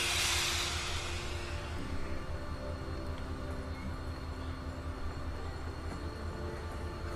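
A train rolling along in The Walking Dead video game, a steady low rumble and rattle that swells at the start and then continues evenly with no speech over it.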